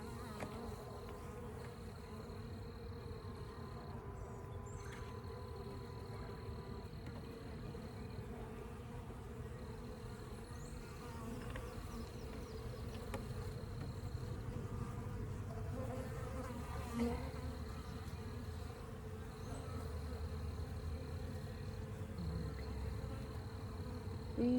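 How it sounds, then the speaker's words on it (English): Bees at a swarm hive buzz steadily and close by for a long stretch, a continuous droning hum with a faint high tone pulsing on and off. "Bees."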